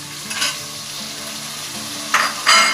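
Squid sizzling in a frying pan for adobo while being stirred, a steady hiss with a few louder scraping stirs near the end, close and alone with no talk.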